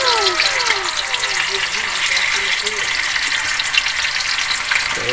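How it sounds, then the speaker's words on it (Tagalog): Beef slices frying in a pan for Filipino bistek tagalog, a steady loud sizzle with bursts of spatter and stirring, heard close and continuous throughout. "Kaya medyo prito natin ng konti."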